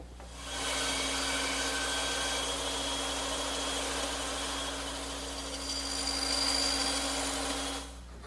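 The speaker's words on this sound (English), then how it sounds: "And I'll make those cuts on my bandsaw." Bandsaw cutting an angled tenon in wood, one continuous steady whining run of about seven seconds that starts and stops cleanly, loud and close, with no speech.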